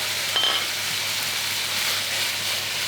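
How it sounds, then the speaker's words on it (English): Bacon frying in a pan while cooking for a macaroni bake gives a steady, fairly loud crackling sizzle throughout, with a brief pop near the start and no talking. "See how much fat's coming out of that bacon?"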